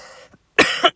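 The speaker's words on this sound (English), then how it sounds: "excuse my coughing, got a bit of a sore throat" A man with a sore throat coughs nearby, a couple of sharp, loud bursts in quick succession after a brief quieter sound.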